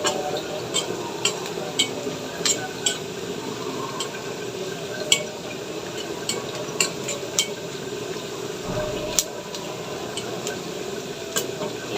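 Onion and whole cumin seeds frying in a little oil in a pan, a constant bright sizzle with periodic clicks of a utensil stirring against the pan.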